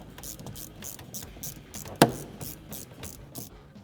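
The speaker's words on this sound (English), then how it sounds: "put on your hose clamp and tighten it down" A hose clamp is ratcheted tight on a cold air intake on a 2021+ Ford Bronco 2.3L, giving rapid close clicking in a steady rhythm with one louder snap midway.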